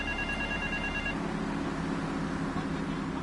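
Telephone ringing in the video game GTA 3, a steady electronic ring heard through the first second over a constant dense background wash of game ambience.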